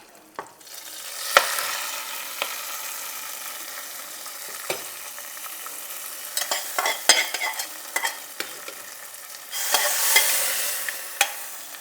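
Tempering spices sizzling in hot oil for pongal, with scattered pops and spatters and frequent ladle clinks and scrapes, and a louder burst of sizzle near the end, no speech.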